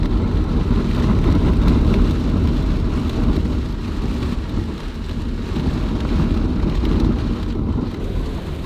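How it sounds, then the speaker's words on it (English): A thunderstorm with heavy rain rolls over a mountain ridge, a loud steady roar of rain with deep rumbling thunder running throughout, with no talking. "That is a heck of a storm moving up into the mountain ridge where we're at."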